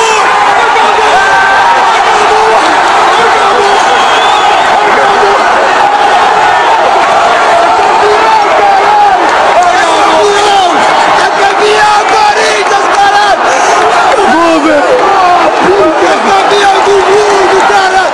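Corinthians football supporters in a packed stadium chanting and cheering, a loud unbroken roar of massed voices in rhythmic song, continuous throughout.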